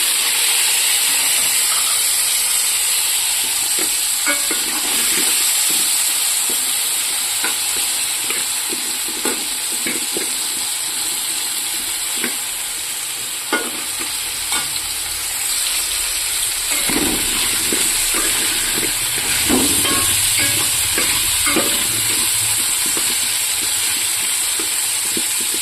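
Potato and cauliflower frying in a pan for a home dinner, with a steady loud sizzle and hiss throughout and repeated scraping, clattering stirs of a spatula against the pan, no voices.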